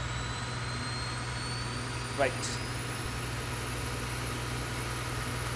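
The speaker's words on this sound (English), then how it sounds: "You can hear the APU starting to spool up." The APU of a Boeing 737-8 in the X-Plane 11 flight simulator spools up, a thin whine slowly rising in pitch over a steady low hum, with a brief spoken word partway through.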